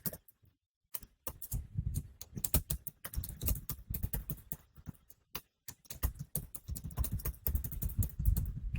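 A computer keyboard clacks as a password is entered during a FlowFuse and Node-RED setup on Windows, with quick bursts of close, crisp keystrokes broken by short pauses.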